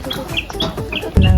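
A bird calls from somewhere overhead on Jeju Island, giving a few bright, repeated chirps over street noise. A low thump comes at the end.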